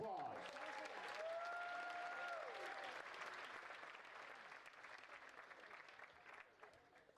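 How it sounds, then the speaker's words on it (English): An audience at a Western States awards ceremony applauding, a sustained wash of clapping that gradually fades, with a voice speaking briefly over it at the start. "Let's give them a big round of applause."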